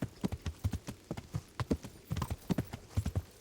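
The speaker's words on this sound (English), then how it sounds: "Come on, horse. Can you not sprint?" Horse hooves clip-clop steadily in the video game Kingdom Come, a brisk, even, close rhythm of hoof strikes that plays clearly with no talking.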